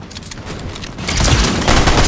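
Loud close-range gunfire in a Fortnite match, rapid overlapping shots swelling into a dense barrage in the second half, with no voices.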